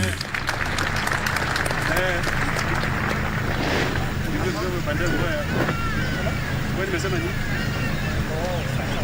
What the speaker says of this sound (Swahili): Tuwaongeze makofi tafadhali